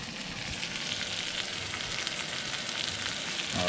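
Bluegill fish fry in butter in a pan with a steady, close, crackling sizzle that holds evenly throughout, with a few faint stirring scrapes and no talking.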